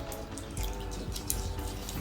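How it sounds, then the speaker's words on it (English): Water is poured from a small stream onto a rainbow matrix opal, giving a faint, steady trickling and dripping wash close by with no talk. "put a bit of water on the subject"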